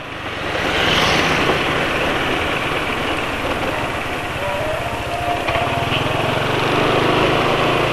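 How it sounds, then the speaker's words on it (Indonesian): A Yamaha NMAX scooter engine runs steadily at close range, a loud continuous mechanical drone with a throbbing low pulse that shifts slightly partway through. "Jadi suara mesinnya seperti ini ya."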